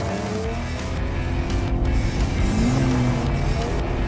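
Cadillac ATS driven flat out on the Monaco circuit, a loud continuous engine roar with rising and falling pitch sweeps as the car pushes through a tunnel.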